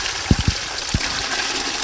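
Fresh birch sap is poured into buckets outdoors, a steady watery gush and splash with a few dull knocks of the bucket near the start, close and fairly loud.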